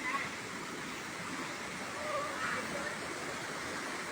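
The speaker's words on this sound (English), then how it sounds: "There's the waterfall." A waterfall at a swimming hole on a hike in northern Thailand gives a steady, full rushing roar throughout, with faint voices of people nearby mixed into the water noise.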